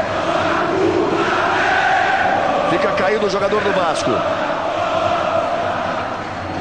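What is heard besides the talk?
Vasco fans cheering at Maracanã stadium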